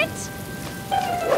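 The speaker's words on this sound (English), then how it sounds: "The rain!" Rain falling in an animated cartoon scene, a steady soft patter and hiss heard for a short moment with no voices over it.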